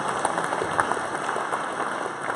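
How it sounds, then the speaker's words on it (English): An audience applauds steadily throughout at a 1 Million Cups Kansas City gathering, a dense patter of many hands clapping at moderate loudness. "Let's give that a round of applause."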